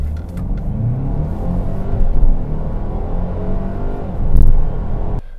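Plug-in hybrid SUV in sport mode accelerating hard at full throttle, a loud, steady engine and drivetrain roar building continuously for about five seconds before cutting off abruptly.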